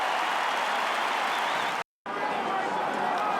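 Football crowd at an AFL match between the Cats and GWS roaring after a goal, a broad sustained wall of cheering broken by a brief cut, with commentary over it.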